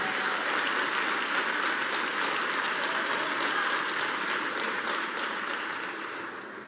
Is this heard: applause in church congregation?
yes